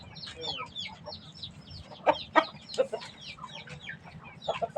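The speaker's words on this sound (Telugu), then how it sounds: "మంచి సైజు పుంజులు" Well-sized roosters at a farm cluck in short, sharp bursts over a low, steady background hum. Several louder close calls come near the middle, with smaller clucks and chirps scattered around them.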